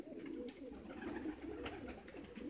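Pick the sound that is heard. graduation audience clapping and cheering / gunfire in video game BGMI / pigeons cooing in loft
pigeons cooing in loft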